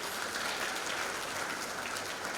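A graduation ceremony audience claps in a dense, even patter that stays steady and fairly soft throughout. No voices are heard.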